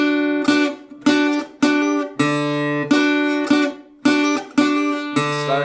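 Guitar plays the slowed outro of a song, about eight evenly spaced strummed chords, each ringing briefly before the next, close and clear with no talking.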